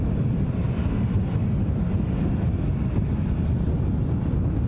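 A KLM Embraer 175 jet departing Glasgow International Airport for Amsterdam, heard as a steady, fairly faint low roar from a distance that holds evenly throughout with no talk.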